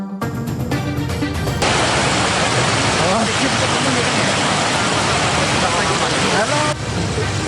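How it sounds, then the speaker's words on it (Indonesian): Floodwater pours through a breached embankment of the Cabean River in Demak, Central Java, a dense, unbroken roar of rushing water that stays loud and constant throughout. "Jebolnya tanggul membuat air mengalir deras ke jalan dan permukiman warga."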